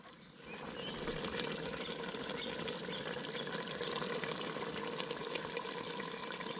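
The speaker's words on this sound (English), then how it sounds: "Let her simmer on down and it'll be done." Picadillo simmering in a Dutch oven at a campsite, a steady dense bubbling and sizzling that holds evenly close by throughout with no talk.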